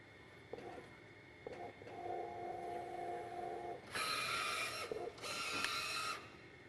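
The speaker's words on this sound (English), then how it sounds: "Press OK twice to begin printing a nozzle check pattern." An Epson SureColor T-Series large-format printer runs a nozzle check print, with a whirring motor hum, a steady mid-pitched drone, and then two loud buzzing print-head passes, heard alone at moderate level.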